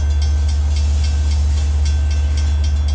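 Long Island Rail Road locomotive 422 passes close by on the Montauk Branch east of Babylon, a loud steady low rumble with a constant rolling roar and faint rhythmic wheel clatter, no voices.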